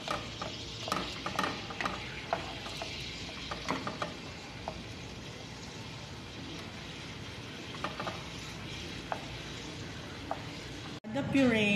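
Butter melts in a pan with a faint, soft sizzle, broken by scattered light clicks and scrapes of stirring and a sharper knock near the end.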